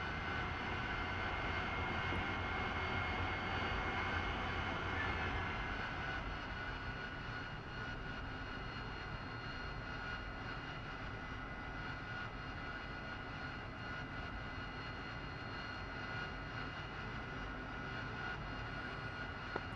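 An AV-8B Harrier II jet engine in the DCS flight simulator, heard from the cockpit as a constant loud whine and roar that holds steady for the whole stretch, with no talking.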